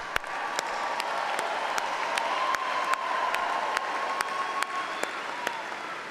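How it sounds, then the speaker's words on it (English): A large graduation ceremony audience applauds the class of 2025, a dense, steady roar of many hands clapping throughout, with a few sharp individual claps standing out at regular intervals. "There'll be a lot of applauding for you today."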